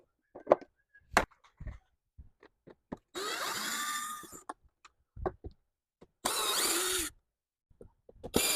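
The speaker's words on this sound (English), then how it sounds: "I'm going to take the Phillips screws off of the outside of the air box" A power driver backs Phillips screws out of the air box on a 2019 Buick Enclave with a 3.6L engine, with two bursts of whirring a few seconds apart and scattered clicks and knocks of tool handling in between.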